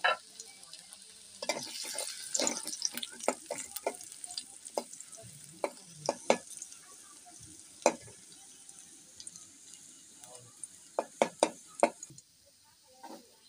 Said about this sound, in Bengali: রসুনটাকে ভেজে ব্রাউন কালার করে নিলাম।